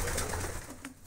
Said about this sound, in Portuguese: Aqui a pomba mais nova de ninho aqui que tá tendo é essa aí, ó.